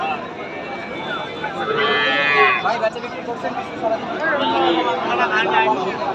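Cattle at the Raniganj cow market: one clear cow moo rises over loud, busy crowd chatter and people talking nearby.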